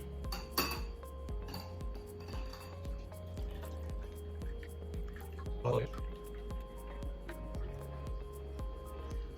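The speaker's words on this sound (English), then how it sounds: "I'll go ahead now and I will strain this into the rest of the mixture." Ginger-infused liquid is strained into a Jamaican rum punch mixture, with faint trickling, drips and light clinks of glass and utensils under a quiet background.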